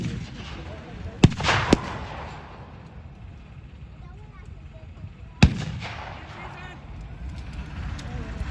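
A Pak-36 anti-tank gun firing at a World War II battle reenactment, with sharp, loud blasts around one and a half seconds and five seconds, each rolling out across open ground, with other reports and crowd noise between.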